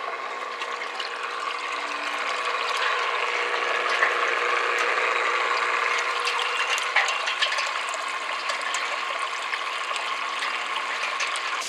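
A plunge pool water pump motor hums steadily, with water churning and a rattling mechanical whir that holds constant throughout.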